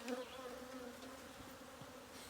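Honeybees buzz steadily close by around hive frames, a soft continuous drone with a few louder passes, no voices.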